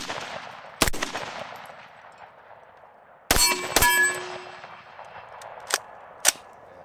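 Gunshots from a 7.62x39 AR rifle, several sharp, loud cracks spaced irregularly, two close together in the middle and a ringing metallic clang after one of them, with outdoor echo between shots.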